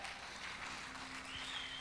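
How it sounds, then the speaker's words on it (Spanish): A church congregation applauds during a Spanish-language worship service, a steady wash of many hands clapping at once that fills the room for the whole moment. "Denle un aplauso al Señor"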